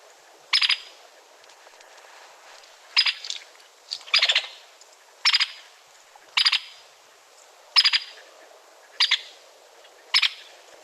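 White-headed woodpecker calls: about nine sharp, separate bursts spaced roughly a second or two apart, clear and fairly close over a quiet background.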